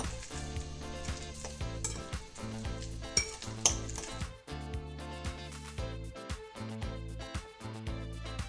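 A utensil stirs a homemade brush soap mixture in a bowl, with close, repeated scraping and clinking strokes in an uneven rhythm, alongside steady tonal hum underneath and no talking.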